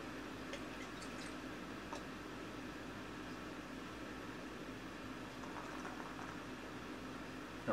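Shipyard Monkey Fist IPA poured from a bottle into a glass, heard as a quiet, steady foamy fizz and wash of liquid with a few faint drips, no voices.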